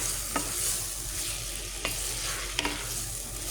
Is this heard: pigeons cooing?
no